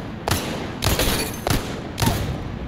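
Three loud handgun shots from the Apex Legends video game ring out about half a second to a second apart, each a sharp broadband crack with a short tail.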